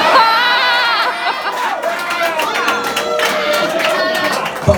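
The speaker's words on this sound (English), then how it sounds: "Give me a cheer if you've actually come every week to see the show." A drag show audience at Her Upstairs cheers and chatters, a loud continuous crowd roar with whoops and voices layered throughout.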